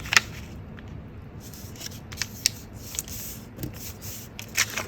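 Paper is folded and creased by hand while making a shabby boho junk journal bag: soft close crinkles and sharp crease snaps over a steady hiss, with no talking.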